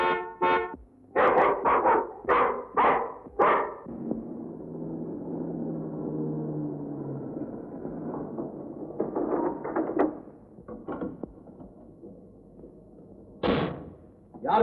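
A dog barks in a rapid burst of several sharp, loud yelps, then after a quieter stretch of low rumbling gives a few more scattered barks and one final bark.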